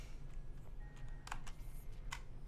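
Typing on a fairly new computer keyboard during a gaming stream, a handful of scattered key clicks with a quick cluster in the middle, soft and close over a low background hum.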